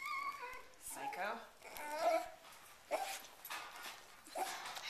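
A dog yips, whimpers and gives short excited barks at the front door while greeting arriving people, with several people talking and greeting warmly over the noise.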